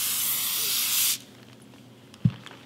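A loud, steady hiss of aerosol cooking spray lasting about a second, then quiet with a faint background and a brief thump.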